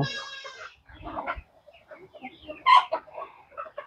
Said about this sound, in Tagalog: Saka yung mga manok natin doon